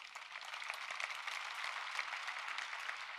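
Polite applause from a keynote audience at a 2011 partner conference, a soft continuous patter of many hands clapping at an even level for a few seconds.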